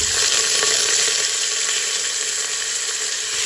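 Curry leaves dropped into hot oil for a Kerala chicken stew, giving a loud, constant sizzle with a bright crackling edge that stays close and even, no one speaking.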